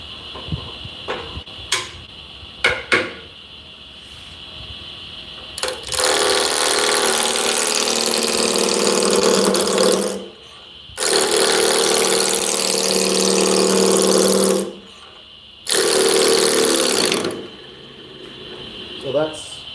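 A wood lathe spins a balanced cherry blank at high RPM on a drive center, giving a loud, steady whine that runs in long stretches and cuts off twice, with a few light knocks before it starts.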